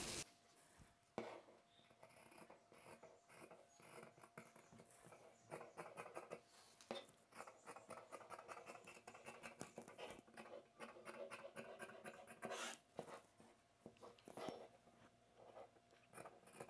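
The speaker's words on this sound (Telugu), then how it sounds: "ఇప్పుడు మనం మార్క్ చేసిన ఈ పీస్ని కట్ చేసుకుందాం" Scissors snip through blouse fabric along a marked cutting line, a soft, steady run of close, crisp cuts and rustles with light patter of cloth being handled.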